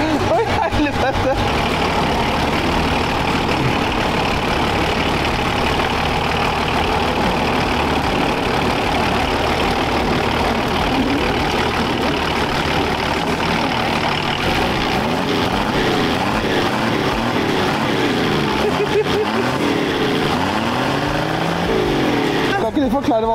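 A homemade car fitted with a Nissan Patrol engine runs steadily at idle, a rough continuous engine drone with occasional revving swells, while people talk over it throughout.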